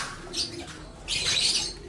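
Soft checkered racing pigeon coos and chirps close by, with a brief flutter of wings, over a quiet background hiss.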